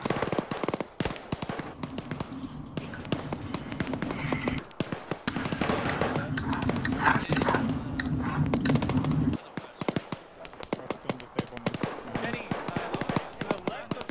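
Rapid crackling bursts of fireworks set off from an ammo cache in Arma 3, dense popping and banging over a sustained low rumble for most of the stretch, then thinning into scattered loud cracks near the end.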